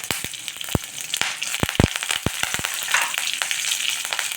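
Mustard seeds crackle and pop sharply in hot oil as green chillies and curry leaves sizzle alongside, a loud close frying hiss broken by many irregular snapping bursts.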